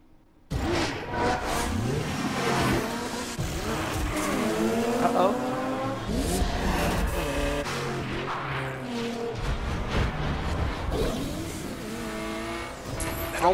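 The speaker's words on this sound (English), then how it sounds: "I'm driving a Nissan." A Nissan race car engine revving and roaring in The Crew, steady loud engine drone with rising and falling gear pitch and some tire squeal throughout, with voices talking over it at times.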